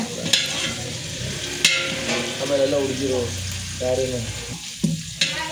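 Biryani stirred and frying in a pot, with scraping ladle strokes and steady sizzle, several sharp clanks of metal, and voices speaking faintly in the background.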